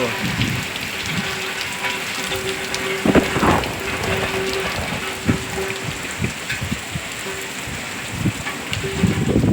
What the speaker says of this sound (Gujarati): વરસાદની ધીમે ધીમે ધાર ચાલુ થઈ ગઈ છે